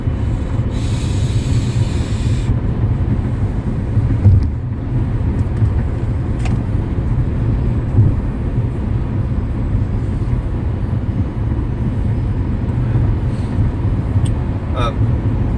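A car cruises back up to about 70 on a highway during a morning drive to work, giving a steady, close cabin drone of road and engine noise that runs unbroken throughout.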